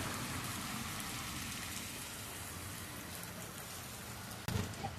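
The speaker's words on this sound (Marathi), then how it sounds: "पाऊस पण एवढा जोराचा चाललाय ना" Heavy rain pours steadily in a broad, even hiss, loud and close throughout, with a brief sharper knock near the end and no voices.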